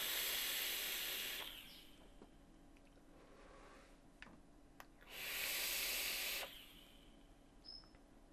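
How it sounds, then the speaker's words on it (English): A vape coil on a Puma mod with a Wasp atomizer, set to 60 watts with a 0.39-ohm coil, sizzles and hisses in two bursts of a few seconds each. Quiet pauses separate them, with soft breathing sounds between. "Sizzle."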